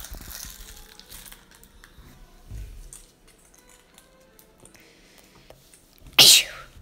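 A single sharp sneeze bursts out near the end after several seconds of quiet rustling and faint handling noises.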